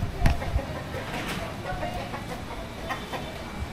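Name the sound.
skinny rooster on a street in Hanoi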